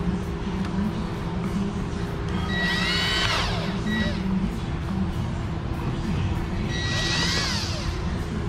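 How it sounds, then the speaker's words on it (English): A power drill bores a hole through a cover, with two rising whining bursts of drilling over a steady background hum. "I need to drill a hole in it to run the power supply wire through"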